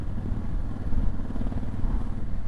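Honda Africa Twin motorcycle being ridden, a steady low engine drone with rumbling road and wind noise, loud and continuous throughout without any talk.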